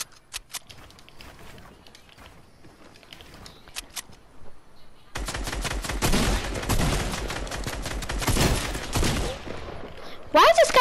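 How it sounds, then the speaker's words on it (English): Gunfire in Fortnite: sparse shots at first, then a dense, loud stretch of rapid firing and impacts close by, with shotgun blasts among them. "Why is this guy trying to shotgun me?"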